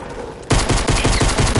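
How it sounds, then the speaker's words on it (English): A sudden burst of rapid gunfire in Fortnite starts after a quiet moment and continues as a loud, fast volley of shots. "I hear gunshots over here."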